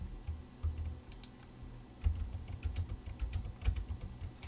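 Computer keyboard typing with Control C and Control V copy-paste presses, heard as quick, close, clicky keystrokes in short irregular bursts.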